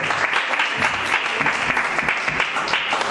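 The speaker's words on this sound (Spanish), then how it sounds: "Fuerte aplauso al Señor" Loud, dense applause from a church congregation fills a preaching service, steady and continuous throughout with no pauses.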